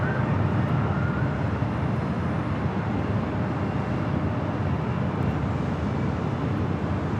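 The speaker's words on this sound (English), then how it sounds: "Followed by yet another United Dreamliner coming up from Shanghai." A United Boeing 787-9 Dreamliner in a special livery, arriving from Shanghai, passes at LAX airport. It makes a loud, steady broadband jet roar with wind buffeting that lasts throughout, and no one speaks.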